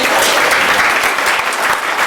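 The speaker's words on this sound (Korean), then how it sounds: "다시 한번 뜨거운 박수로 격려해 주시길 부탁드립니다" An audience at a prayer meeting held in a hotel gives warm, loud, dense applause, a steady wall of clapping that fills the whole short stretch with no voices over it.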